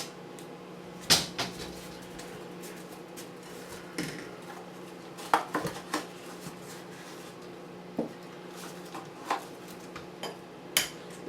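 Kitchen cupboard opened to take out a mixing bowl: several sharp clinks, knocks and clatters of dishware spaced irregularly, close by, with no talking.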